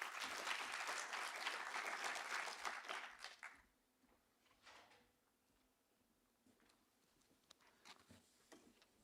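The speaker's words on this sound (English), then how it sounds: "Give them a warm applause." Audience applause at an academic year opening ceremony, a burst of clapping that fades out after a few seconds, leaving scattered faint claps and quiet room noise.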